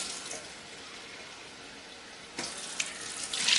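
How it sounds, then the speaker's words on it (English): Water being poured into a cooking pot gives a faint steady hissing trickle at first, then a louder splashing gush in the last second, close by with no voices. "I'm adding half cup of water"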